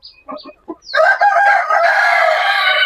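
A rooster crows loudly and close by, a long drawn-out call following a few short clucks from hens, one of them a broody hen sitting on eggs.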